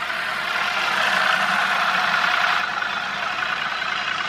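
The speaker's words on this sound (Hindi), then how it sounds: "ये पेट्रोल पे है दोस्त, पेट्रोल पे गाड़ी की साउंड है ये, देख लो।" Steady, close idle of a Tata Punch engine running on petrol, an even hum with a faint rattly texture and no voices.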